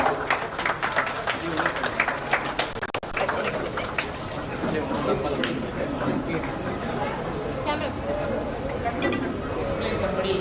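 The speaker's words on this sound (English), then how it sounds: "Please give a big round of applause." A crowd claps continuously at a children's school grand opening, a dense patter of many hands mixed with chatter and cooing birds in the background.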